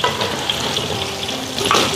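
Eggplant pieces coated in starch deep-frying in hot oil in a home kitchen, a steady close crackling sizzle that holds evenly for the whole stretch with no talk.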